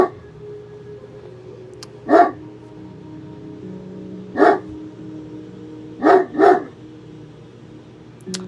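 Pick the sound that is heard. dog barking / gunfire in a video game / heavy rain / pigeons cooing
dog barking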